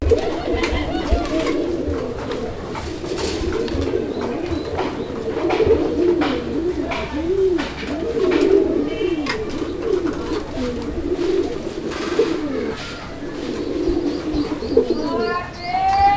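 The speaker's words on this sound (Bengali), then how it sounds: "এটাও গোল্লা কবুতর খুব সুন্দর একটা জোড়া" Golla pigeons on a farm in Bangladesh coo steadily and close by, their overlapping, rolling calls running throughout with faint chirps and a low murmur of background voices.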